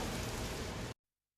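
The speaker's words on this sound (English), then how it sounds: "He opens the tavern door and goes out into the rain." Steady, even hiss of rain falling outside a tavern door at night, loud and close, cutting off abruptly after about a second into silence.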